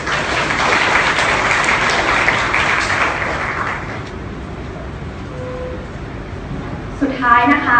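Audience applause at a political science lecture in a hall, a steady dense clapping that fades out after about four seconds, followed by someone speaking.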